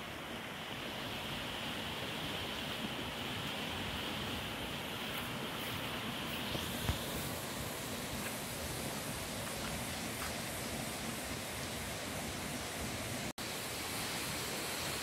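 A waterfall at a reservoir in Canabrava do Norte roars as a steady, dense broadband rush, loud and unbroken throughout with no voices.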